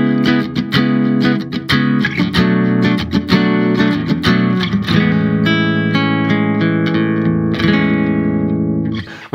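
Enya NEXG 2N smart classical guitar played through its built-in speaker at volume 8 of 16: a loud, close run of plucked and strummed nylon-string notes and chords, with some reverb, ringing steadily without talking.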